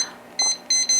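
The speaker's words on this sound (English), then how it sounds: "I will set a timer for 10 minutes." An oven timer gives three short, loud electronic beeps in an irregular rhythm as it is set, close by, in a quiet kitchen.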